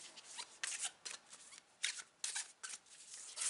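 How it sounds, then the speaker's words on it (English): Tarot cards are shuffled by hand in a run of quick, crisp riffling bursts with short pauses between them, close and fairly quiet with no talking. "let me continue my shuffling"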